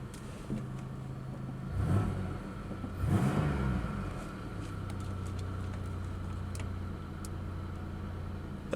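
A used car with its check engine light on idles steadily at close range, with two short revs that rise and fall before it settles back into an even, low engine hum.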